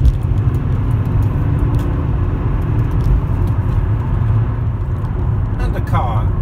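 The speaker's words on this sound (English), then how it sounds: "And the car just cruises perfectly on the dual carriageway." A high-mileage Volvo S80 cruising on a dual carriageway, heard from inside the cabin as a steady, even road and engine rumble with tyre roar that holds at a constant level throughout.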